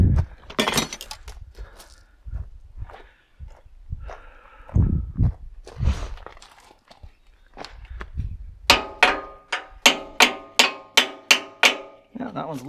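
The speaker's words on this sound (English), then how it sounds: "Let's see if we can tap those bolts out" A hammer taps bolts out of a Massey Ferguson 135 tractor loader, a steady run of about eight sharp metallic strikes near the end after scattered clanks and knocks, with brief talk in between.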